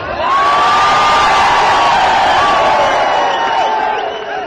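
A huge crowd at a BJP election campaign rally in Khandwa, Madhya Pradesh, cheers and shouts loudly in the open, a dense, sustained roar with whistles and whoops that holds steady before easing slightly at the end.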